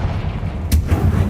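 A Confringo blasting spell explodes in the Hogwarts Legacy video game, a short sharp burst rising out of a steady low rumble, followed by a few softer low thuds.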